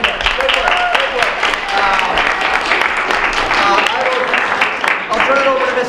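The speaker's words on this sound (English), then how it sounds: "Round of applause for all of you." An audience applauds students after a school Shakespeare recitation, a dense steady clapping that fills the room for the whole stretch, with some voices and cheering mixed in.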